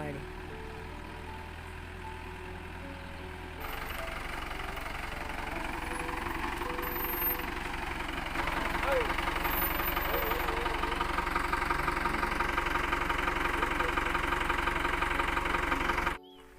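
A vehicle engine approaching and running nearby, a steady mid-pitched rumble that grows louder partway through, with background activity but no clear talk.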